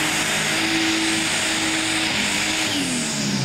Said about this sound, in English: Not a good sound over revving the motor like that when the wheels are not spinning.